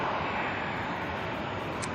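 Boeing 787 Dreamliner turning at Auckland Airport before departing for Perth, a steady broadband engine roar heard at a distance.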